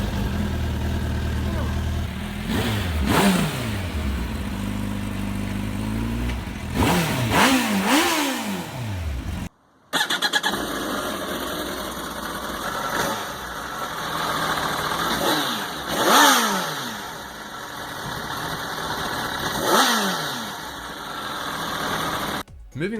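Two big sport bikes, a Suzuki Hayabusa and a Kawasaki ZX14R, idle and rev in turn, their engines rising and falling through repeated throttle blips, loud and close, with a brief cut between the two machines.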